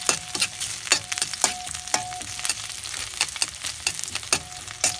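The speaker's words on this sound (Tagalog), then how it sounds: "gigitahin natin yung bawang at saka sibuyas" Garlic and onion sautéing in a wok-style pan for a sardine and sweet potato leaf dish, a steady bright sizzle broken by repeated sharp stirring scrapes and clinks, close and continuous with no voices.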